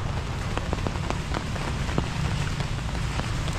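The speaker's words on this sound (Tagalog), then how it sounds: "Kahit na umuulan." Steady rain falls on a construction site, a constant wash of patter with scattered distinct drops landing nearby, fairly soft and without voices.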